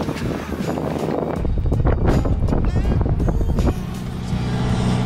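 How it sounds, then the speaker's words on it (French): Strong wind buffets the microphone in loud, rough gusts, with a brief higher whistling swell partway through. "Là, on a un bon vent de face, un petit vent de face qui s'est levé."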